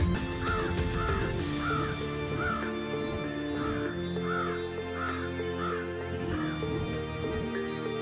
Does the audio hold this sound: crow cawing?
yes